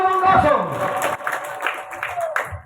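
An audience at an outdoor night church service on a field gives a burst of applause and cheering, a dense crowd sound mixed with a preacher's voice carrying over the clapping.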